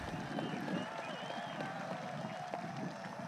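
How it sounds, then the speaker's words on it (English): An outdoor gallery crowd claps and cheers after a putt at a professional disc golf tournament final, steady moderate applause with a murmur of voices running evenly throughout. "Big applause"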